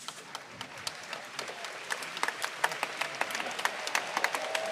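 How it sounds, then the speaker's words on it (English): A crowd at the Rubik's WCA World Championship 2023 applauds the speedcubing competitors, with sustained clapping and sharp individual claps that swell slightly toward the end and stay moderately distant. "Big cheer for both competitors, especially Seok Nam being a crowd favorite"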